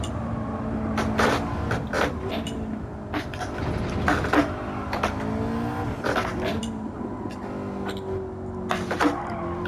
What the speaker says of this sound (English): I'm going to lift here, brake, and then get back on throttle through the dip.